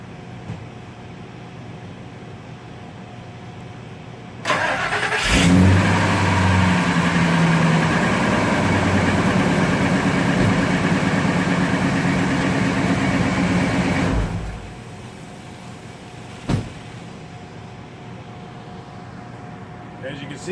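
A 2000 Ford F250 Super Duty engine cranks and catches with a sudden loud start, then settles into a steady low idle for about ten seconds before shutting off, with a brief knock afterward.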